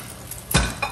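Cooked bacon being lifted from a frying pan with tongs gives a short metallic clatter and scrape over faint sizzling, one loud clank in the middle and a lighter tap near the end.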